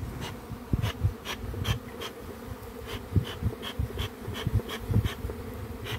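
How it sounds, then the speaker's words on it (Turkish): Steady honeybee buzzing around a hive while a swarm is being caught, a dense insect hum with individual bees droning close to the microphone at intervals. "Buradaki kalkan havalanan arılar kovana yönelsin."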